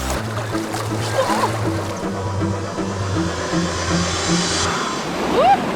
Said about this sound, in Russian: Рафтинг – это экстремальный сплав по горной реке с порогами на надувной лодке